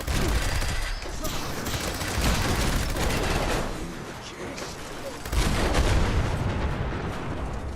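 Dense, continuous gunfire and booming blasts from the video game Fallout 76 rage throughout, with volleys swelling and fading in a steady wash of combat noise and no clear voices.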